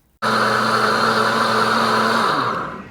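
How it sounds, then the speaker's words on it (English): A kitchen blender pureeing cheddar broccoli soup starts abruptly, then whirs loud and steady with a strong motor whine for over two seconds before winding down at the end. "my blender only has a couple of seconds left"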